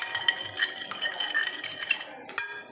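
Salt being stirred into a liquid with a metal spoon, quick repeated clinking and scraping against the bowl in an uneven rhythm, close and fairly loud, with no talking.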